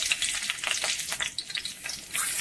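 Green chillies frying in hot oil in a kadai while Odisha-style chilli kobi is cooked, giving a steady close sizzle with crackling pops throughout and no voices.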